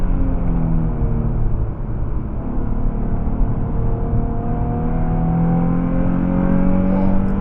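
A car's engine roars steadily on a race track as the driver floors it, a continuous loud drone whose pitch climbs smoothly through the gears, heard from close inside with no talking.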